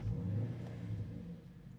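A 351 cubic inch V8 car engine idling with a steady low rumble, heard faintly from inside the car.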